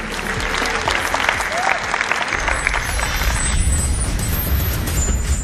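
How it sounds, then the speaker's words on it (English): Audience applause at the Miss Heritage Global pageant show, a dense steady patter of many hands clapping at moderate loudness over a low rumbling background, continuing throughout. "A round of applause."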